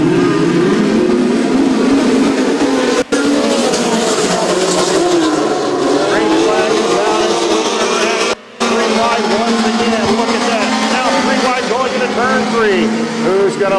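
Midget race cars from the POWRi National Midget League roar around the dirt oval at Spoon River Speedway, engines rising as they accelerate between turns three and four, loud and continuous with overlapping car sounds and crowd noise.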